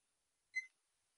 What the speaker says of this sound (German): Ja, es piepst